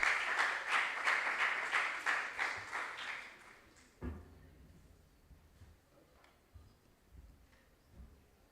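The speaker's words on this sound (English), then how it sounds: "A round of applause for him." Audience applause for a contestant at a regional junior science and maths quiz, dense rapid clapping for about four seconds that then cuts off abruptly, leaving quiet room noise with a few faint knocks.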